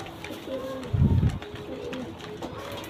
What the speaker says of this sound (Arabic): حمامة نقية، دم قوي ودم نقي